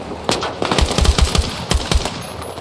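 Rapid automatic machine gun fire in the 2025 video game Battlefield 6, with loud, punchy bursts of shots in quick succession over a busy battlefield backdrop and no talk.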